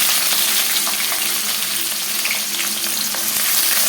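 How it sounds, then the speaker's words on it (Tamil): Onion and tomato paste sauté in a pan with a steady, close, crackling sizzle that holds evenly throughout, without any voices. "இது நல்லா பச்சை வாசனை போகிற வரைக்கும் வதங்கட்டும்"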